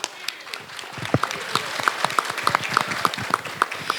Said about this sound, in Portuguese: Levanta lá atrás, salva de palmas também.